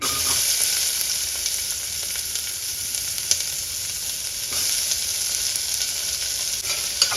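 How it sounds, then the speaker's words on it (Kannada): Onions frying in hot oil in a pan, a constant dense bright sizzle with occasional light clicks of stirring, close and steady throughout, no voices. "ಇವಾಗ ಎಣ್ಣೆ ಬಿಸಿ ಆಗಿದೆ ಇದಕ್ಕೆ ಈರುಳ್ಳಿನ ಹಾಕೋತಾ ಇದ್ದೀನಿ"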